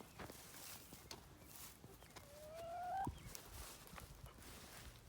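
A chicken heading back toward its coop gives a faint rising cluck with a short squawk partway through, heard over soft outdoor background and quiet rustling.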